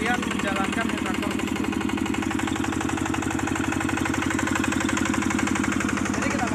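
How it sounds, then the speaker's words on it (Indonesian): A Yanmar YZC-L hand tractor's engine runs steadily close by, a continuous, evenly pulsing mechanical chug that holds the same rhythm and loudness from start to finish. "Traktor sudah menyala."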